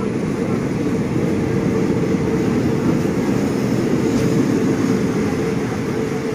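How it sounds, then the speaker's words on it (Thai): A train rumbling in toward a station on a southern double-track rail line in Thailand, a loud steady low roar lasting several seconds without voices. "เพราะขบวนรถนี้จะมา"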